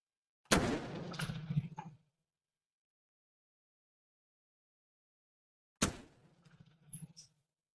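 Two sharp gunshots fired at an enemy's head in a video game, each a loud crack with a short rattling tail, separated by several seconds of dead silence.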